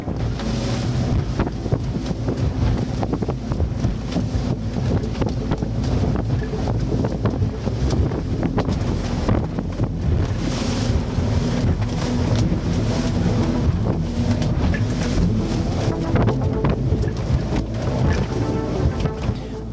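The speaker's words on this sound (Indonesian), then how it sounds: "kembali kami mendapat guncangan air laut akibat hembusan angin tenggara" A small boat at sea off Karimata island, shaken by a strong southeast wind and waves, with constant loud wind buffeting the microphone over rushing, crashing water and a low engine drone, unbroken throughout.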